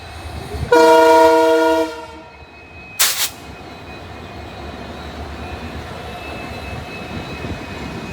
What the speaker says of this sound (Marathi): आता ट्रेन पण आल्या